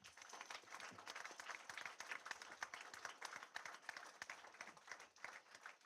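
An audience at a school board meeting applauds school teams, a steady dense round of clapping from many hands filling the room, sustained at even strength throughout.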